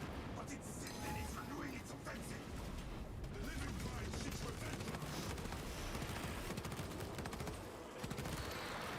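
Video game gunfire from shooting enemies, a sustained clatter of rapid shots and blasts running continuously at moderate level, with voices talking over the fighting.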